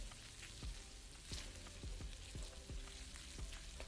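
Finely chopped sausage fries in a pan with a soft, steady sizzle and crackle, broken by a few light, dull knocks, with no talking.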